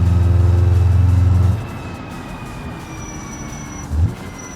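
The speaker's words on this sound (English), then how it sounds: "hood cam, get a little bit more of the engine noise itself" A car engine in the BeamNG driving game, heard from the hood camera, drones loudly at a steady low pitch, then drops away to a quieter rumble with road noise before a brief rev.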